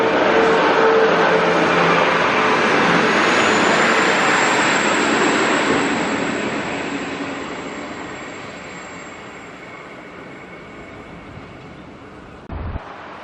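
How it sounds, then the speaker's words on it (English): The Bathurst train pulls out of Lithgow station, a loud, close rumble and whine with a high tone that fades steadily as it moves away, ending with a brief knock. "The Bathurst train leaving Lithgow."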